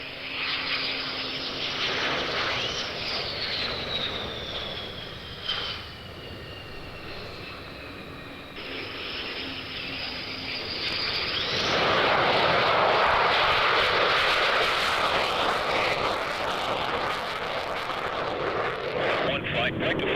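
A military jet landing at RAF Lakenheath, a loud steady engine roar with rising and falling whine, growing louder toward the end, with radio-style talk over it.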